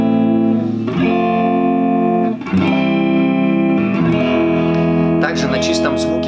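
Electric guitar on a clean tone with a slight gritty, distortion-like edge, sustained chords ringing continuously with reverb and effects, loud and up close, with no voices over it.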